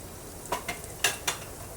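Garlic and spices sauté in oil as a faint sizzle under a few quick spoon scrapes and taps against the pan, four brief strokes over a soft background hiss.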